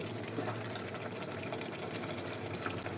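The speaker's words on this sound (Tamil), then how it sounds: "இப்போ அரிசிக்கு தேவையான அளவுக்கு தண்ணி சேர்த்துக்கணும்" Water being poured into a rice cooker for chicken biryani, a steady splashing and trickling stream, close and fairly quiet, continuous throughout.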